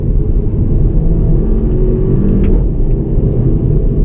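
A 2016 Volkswagen Golf GTI with a DSG gearbox pulls hard at full throttle, its engine a loud, steady, close rumbling roar that holds for several seconds with no break and no talking.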